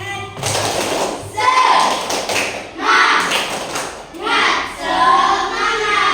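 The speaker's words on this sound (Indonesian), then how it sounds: "Ya, Tepuk semangat." Children in an Indonesian class perform a rhythmic spirit clap, loud bursts of hand taps and thumps in patterned groups, with voices chanting along close by.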